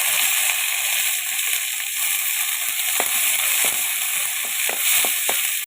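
Shallots fry in hot coconut oil in a clay pot, giving a loud, dense, continuous sizzle heard up close with a few soft knocks of stirring and no talking.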